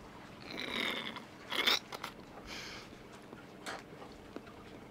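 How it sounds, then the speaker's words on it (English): Someone chews a slimy, jelly-textured drink similar to chia seed jelly during a Thailand food tour, with close, moist chewing and crunchy bites in irregular bursts and short pauses between them. "That's a drink you gotta chew a little bit."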